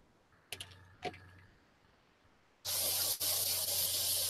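Airbrush spraying red paint onto a model, preceded by a couple of small clicks, then a loud steady hiss that bursts on, breaks briefly and resumes.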